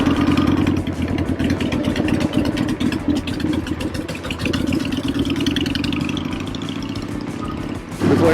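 A Harley-Davidson Sportster Evo 883 motorcycle rumbles loudly and steadily while being ridden on roads in the Hamptons, its engine drone close and continuous throughout, dipping only briefly near the end.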